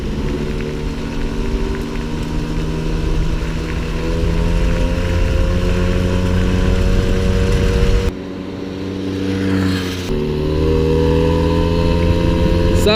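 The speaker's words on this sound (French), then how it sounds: "On entend bien le moteur, vous voyez, qui demande." A 1998 MBK 51 Club VR moped engine runs continuously with a buzzing drone, its pitch rising and dipping as the throttle changes, heard up close with wind noise.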